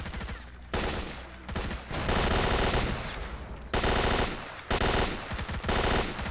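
Loud, close bursts of rapid automatic gunfire in STALKER, several sustained volleys separated by brief gaps, with dense rattling shots and no talk over them.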